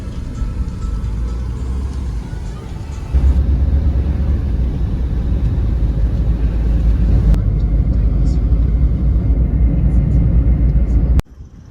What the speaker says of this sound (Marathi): सो ही गाडी होती जी आपल्याला आता हॉटेलपर्यंत घेऊन जाईल.